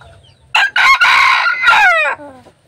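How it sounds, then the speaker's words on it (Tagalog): A native jungle rooster (labuyo) crows once, loud and close, a long drawn-out call that rises and then trails off at the end. "Hintayin nating magtilaok, pakinggan natin yung tilaok."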